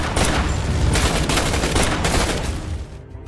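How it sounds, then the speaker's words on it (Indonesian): A shootout in the Reacher series: a dense, loud, continuous volley of gunshots that fills the whole stretch and then cuts off abruptly near the end. "membuat Jack mengetahui posisi dari KJ sehingga terjadi adu tembak antar mereka berdua"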